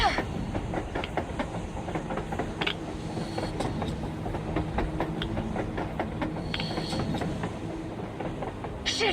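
A train rumbles past on the surface in the video game Metro Exodus, a continuous dense roar with rhythmic clattering and metallic clicks throughout, no speech.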